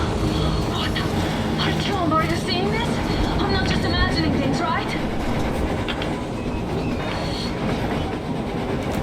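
A train in the video game Metro Exodus Enhanced Edition rumbles past with a steady rhythmic clatter of wheels on rails, loud and continuous throughout, with muffled voices underneath.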